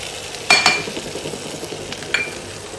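Soya chunk vegetable being stirred and sautéed with turmeric in a pan, a low steady sizzle with a few sharp scrapes of a spoon against the pan, close and alone.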